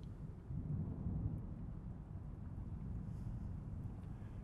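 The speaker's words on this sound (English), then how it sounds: "That storm out there isn't gonna pass over." A thunderstorm rumbles outside with a steady, dense wash of low roaring thunder, wind and rain, heard from indoors at moderate level without speech.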